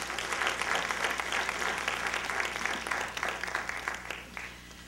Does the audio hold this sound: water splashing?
no